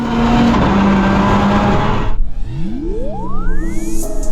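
A 380-horsepower Mitsubishi Mirage rally car powers through sand, its engine roaring loudly up close before cutting out sharply, then a rising whine sweeps upward as it pulls away and rebuilds speed.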